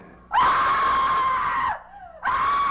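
A loud, sustained scream from a horror home-video commercial holds for over a second, breaks off briefly with a sliding wail, then starts again.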